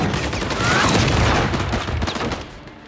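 Gunfire in the shooter game Call of Duty: Modern Warfare 3, a dense, loud fusillade of overlapping shots and rapid automatic bursts that fades somewhat toward the end, with no talk.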